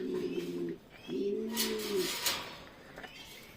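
A pigeon in a pigeon loft gives two soft, throaty coos in quick succession, fairly close, followed by faint rustling and scattered noises in the loft.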